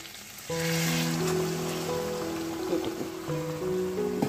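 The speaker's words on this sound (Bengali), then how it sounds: "এবার আমি এই গরম জলটা দেব, এই অল্প একটু" Hot water goes into a frying chicken curry with a sudden rush, then a steady close hiss and sizzle that runs under tonal background music.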